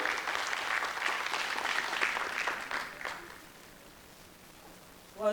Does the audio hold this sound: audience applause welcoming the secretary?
yes